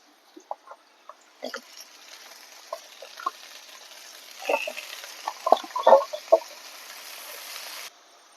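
Cut pumpkin greens drop into hot oil over medium heat, setting off a sudden, sustained sizzle with scattered pops and clatters of the utensil. The sizzle stops abruptly near the end.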